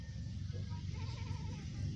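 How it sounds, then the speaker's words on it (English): A goat on a farm in the Philippines bleats once in a wavering, moderately faint call over a steady low background hum. "The goat is closely related to the sheep."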